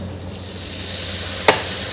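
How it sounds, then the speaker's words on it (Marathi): Ground masala spices for a chicken curry being sautéed in a pan, a continuous close sizzle and hiss with soft stirring, broken by one sharp utensil clink partway through. "हे मसाले आपल्याला छान परतून घ्यायचे आहे"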